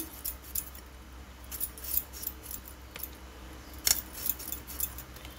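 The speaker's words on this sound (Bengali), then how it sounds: "দেখো আলু কাটছি" Quiet, repeated crisp cuts of a knife through potatoes, irregular light clicks and taps close by, with no talk.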